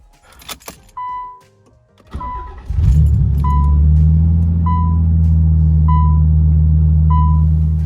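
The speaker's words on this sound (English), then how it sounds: "I'm gonna go ahead and pull the Z out" Nissan 300ZX starting up and idling on a patio, preceded by door and key clatter, with a periodic chime repeating over the steady, loud low engine rumble.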